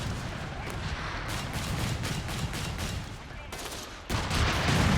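Bazooka rounds land in a Company of Heroes 3 match, a continuous barrage of blasts and gunfire with a heavier boom near the end, loud and dense.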